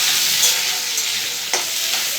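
Chopped onions tossed into hot oil in a pan for chilli chicken sizzle loudly and steadily while being stirred, with a sharp spatula scrape partway through and no voices.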